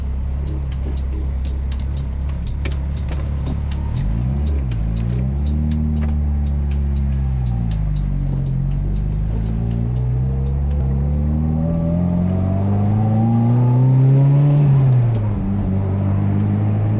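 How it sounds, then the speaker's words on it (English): A Mitsubishi Evo X engine runs steadily and loud from inside the car, revving up and down as it pulls away and drives on a San Francisco street, with a rhythmic choppy idle note. "You guys hear the chop from the engine."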